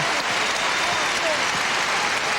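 A basketball arena crowd at a Kansas college game applauds steadily, a dense, loud wash of clapping that holds for the whole stretch, with a voice faintly mixed in.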